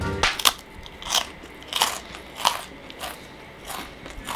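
Crunchy snack being bitten and chewed up close, with about seven sharp crunching bites spaced roughly every half second, loud and dry, with no talking.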